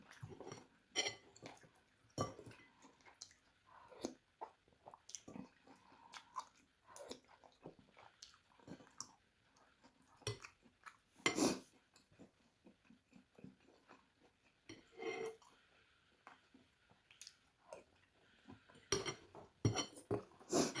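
Someone eats a mixed bowl of noodle soup, with soft chewing and slurping broken by sharp clinks of cutlery against dishes, close and intermittent throughout with no talking.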